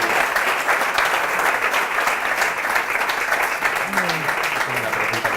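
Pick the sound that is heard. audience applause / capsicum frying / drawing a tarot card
audience applause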